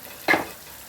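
Chili powder hitting hot oil in a pan while a spoon stirs it, giving one short, bright sizzle burst that quickly fades into a low background hiss.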